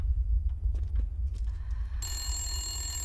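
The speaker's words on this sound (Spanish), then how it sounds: "El teléfono, ¿quién llama?" A telephone rings in the horror video game Resident Evil Village, a bright, sustained electronic bell tone that starts suddenly partway through over a low rumbling ambience, with no talk.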